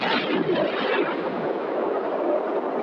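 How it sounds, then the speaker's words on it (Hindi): A loud, sustained rumbling blast that roars steadily for a few seconds, dense and booming with no pauses. "जिसके कारण एक तेज धमाका हुआ"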